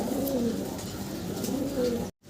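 Rajshahi brown-necked pigeons coo steadily in low, throaty bursts, close by and continuous, ending abruptly in a brief silence.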